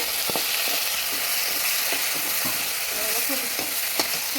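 Small cut potatoes fry in oil with a steady, close sizzle, broken by occasional stirring scrapes and soft knocks in the pan.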